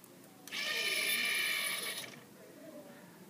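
Whirring gear-driven motors of a Scorbot ER 3 robot arm moving to a set position, a faint buzzing whine that runs for about a second and a half and then stops.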